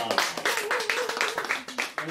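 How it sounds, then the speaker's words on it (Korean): Audience applause at a Korean literary talk show and poetry-song festival, greeting a singer as he comes on; a dense, steady patter of many hands with a voice speaking over it. "박수로써 모시겠습니다"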